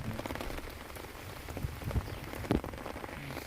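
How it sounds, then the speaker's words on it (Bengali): Steady rain falls outdoors over floodwater on a rainy day, a dense even patter with a few louder drops close by, no voices. "আর বৃষ্টি হইতেছে"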